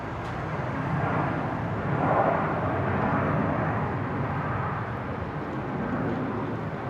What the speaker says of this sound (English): Jetstar 566 just about to touch down. In from Melbourne, 19 left.